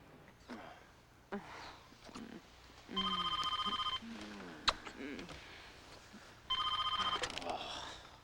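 An old-style telephone bell rings in two long bursts, with people talking and moving around between and under the rings.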